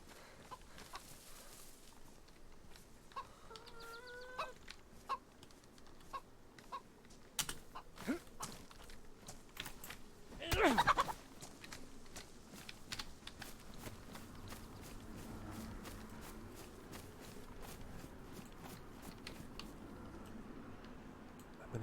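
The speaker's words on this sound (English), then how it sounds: "I heard this chicken just then when I was fighting that Z." Chicken clucking in the DayZ survival game, a few faint, short calls early on amid footsteps and ambient game noise, with a louder burst of action midway.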